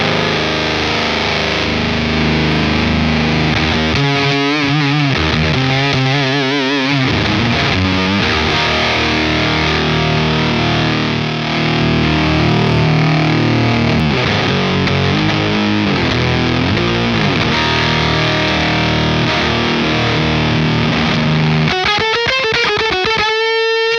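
Electric guitar through a Bender fuzz pedal, thick saturated buzzing chords and sustained notes with a dense gritty wash, loud and continuous, with quick rattling note runs near the start and a fast trill at the end.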